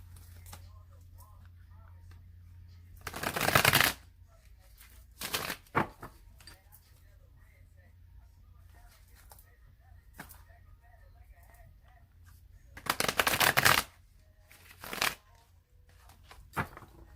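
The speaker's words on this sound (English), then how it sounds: "I'm going to shuffle it 3 more times" Tarot cards riffle-shuffled in two loud bursts near the microphone, each lasting under a second, with softer card flicks and taps scattered between them.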